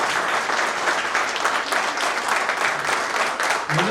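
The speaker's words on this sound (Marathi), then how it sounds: "त्यामुळे ऑर्गनायझिंग कमिटीसाठी जरा जोरदार टाळ्या तुम्हाला" Loud, dense applause fills the whole stretch without a break: a hall full of people clapping hard at a 2024 reunion of the 1989 batch of Balak Vihar Vidyalay school in Dadar.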